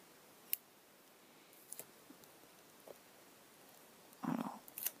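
Scissors snip a few times close by in a quiet room during a scrapbooking craft, with sparse light clicks and a louder cluster of cuts near the end.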